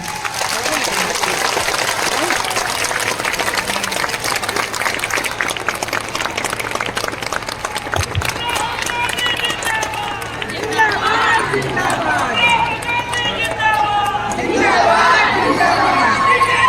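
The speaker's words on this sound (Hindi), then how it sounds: "इतनी जोरदार तालियां बजनी चाहिए" A large outdoor crowd at a Congress political rally in Simdega, Jharkhand, applauding and cheering for Rahul Gandhi, loud and sustained, with dense clapping, shouts and chatter throughout.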